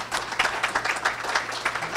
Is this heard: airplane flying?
no